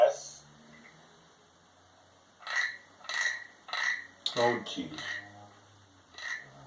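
Small wooden frog rasp from Thailand stroked with a stick, giving several separate ratcheting croaks spaced about a second apart, close and fairly loud, with a brief remark from a voice in between.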